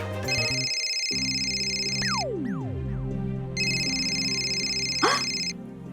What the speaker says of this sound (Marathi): अनन्या अनन्या, बाळा फोन आलाय, लवकर ये